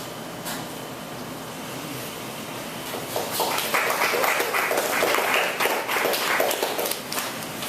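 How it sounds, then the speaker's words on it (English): Audience at a poetry reading breaks into scattered clapping that swells into steady, moderately loud applause over several seconds, heard at room distance. "You don't have to applaud just because I paused."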